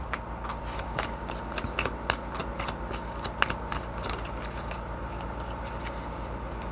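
Cards handled and shuffled for a tarot-style reading, a steady run of soft riffling flicks and taps close by, with sharper snaps scattered throughout and no talking.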